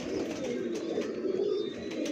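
A prized pigeon cooing close by in a breeder's loft, a soft low throaty warble repeating steadily, with faint rustles and light clicks around it.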